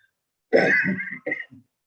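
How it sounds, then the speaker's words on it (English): A close, single harsh cough from a speaker with a bad cough, followed by a shorter second rasp, with silence before and after. "I'm sorry, I have this bad cough."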